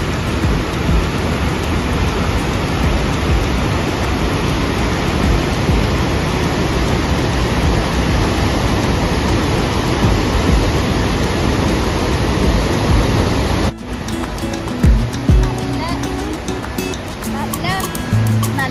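Water roars through the open shutters of the Bhoothathankettu dam during the monsoon, a loud, steady broadband rush that holds unbroken for most of the stretch before cutting to a quieter, thinner flow near the end.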